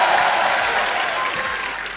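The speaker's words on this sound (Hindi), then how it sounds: "तालियां" A studio audience at a televised comedy show bursts into dense, sustained applause, loud and close, fading only slightly over two seconds.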